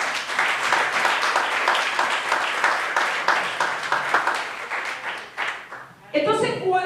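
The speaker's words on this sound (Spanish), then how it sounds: "Den un aplauso al Señor" Congregation in a church service applauding together, a dense steady wash of many hands clapping for several seconds before fading out, followed by a brief tonal musical passage.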